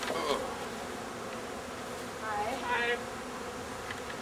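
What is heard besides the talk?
honey bee swarm buzzing in a Vancouver backyard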